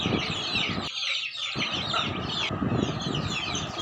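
Chickens with their chicks cluck and peep close by on a farm, a busy continuous chatter of hens and high chick calls with a brief quieter gap.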